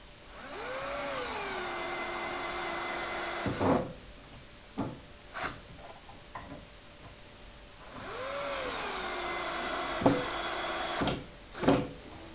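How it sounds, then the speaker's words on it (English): Power screwdriver driving screws to assemble a wooden bookshelf face frame, heard as two whirring bursts that ramp up and wind down, each followed by sharp knocks and clatters of wood being handled, close by with no talk. "then we can get this frame all screwed together"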